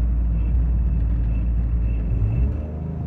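A tuned 600bhp Toyota GR Yaris pulling away, its engine a loud, low, steady rumble heard from inside the cabin, with the drone easing slightly toward the end and no talk over it.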